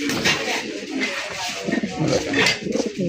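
Repeated low coos of a male Red Indigo pigeon in a soft rolling rhythm, fairly close, with some background noise between calls.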